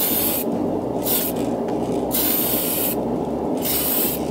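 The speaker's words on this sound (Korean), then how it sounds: "이런 식으로 뿌려주시면 되는데, 캔 스프레이 특유의 많은 분사량이 나가기 때문에 한두 번으로 끝내주셔도 무관합니다." A spray can hisses a finish coat onto a plastic model in several steady bursts, each with short pauses between passes, close and loud, with no talking.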